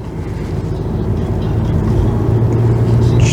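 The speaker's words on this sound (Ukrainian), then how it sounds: "Зараз ми на бензині їдемо" A Volkswagen Passat B8 GTE plug-in hybrid running on its petrol engine, heard from inside the cabin as a steady low engine hum and road rumble that builds slightly while driving, with no one talking.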